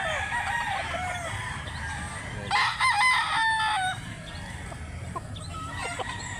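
A young gamecock (bullstag) in Cebu, Philippines crows once, loud and fairly close, with faint clucking and background noise around it.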